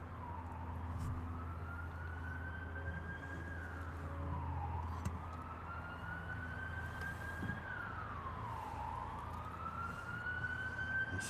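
A wailing non-fire-truck siren rises and falls in slow, repeating sweeps, distant but steady and drawing closer, over a low background hum.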